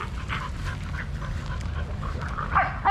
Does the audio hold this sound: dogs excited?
yes